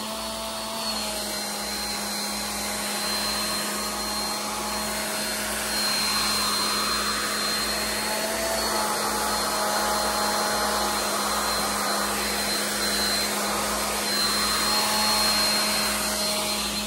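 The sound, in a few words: blow dryer shrinking plastic wrap on a gift basket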